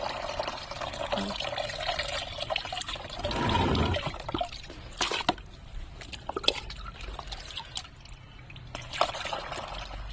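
Liquid plant fertilizer water being strained into a bucket, a close splashing pour that swells briefly, then settles into trickles and scattered drips.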